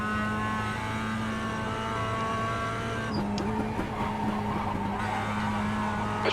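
Mazda MX-5 Cup race car in iRacing at Summit Point Raceway, steady engine drone with tires sliding and squealing through a corner, continuous and close.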